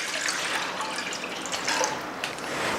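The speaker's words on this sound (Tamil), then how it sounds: "அதுக்கு முதல்ல கொஞ்சம் சுடு தண்ணி போட்டுடலாம்." Steady rushing and splashing of hot water being poured into a cooking pot while preparing snacks in a home kitchen, continuous and fairly close, with no talking.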